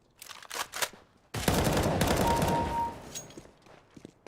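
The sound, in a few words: gunfire in a video game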